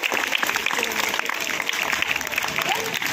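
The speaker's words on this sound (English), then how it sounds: "So clap for yourself" Schoolchildren at an English school session on oral health clapping for themselves, a busy, steady patter of claps mixed with chatter and voices throughout.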